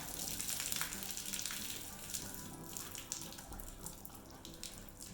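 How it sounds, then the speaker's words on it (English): Warm water splashes steadily from a hose or tap while rinsing a horse, a continuous gushing rinse with small fluctuations, close by, with no talking. "a nice rinse with comfortably warm water"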